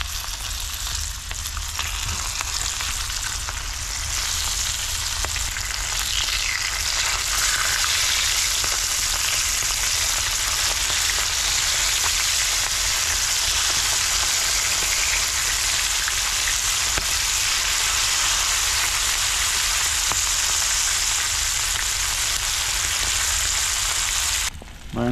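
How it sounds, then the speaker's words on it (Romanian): Fish frying in a pan aboard a boat on the sea, a steady close hiss and crackle of hot oil running unbroken for the whole stretch, with no voices over it. "noi prăjim pește aici"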